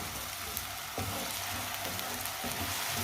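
Finely chopped tomato cooks in a pan with a steady, close-up sizzle that holds at an even level throughout, broken by a couple of soft stirring shifts.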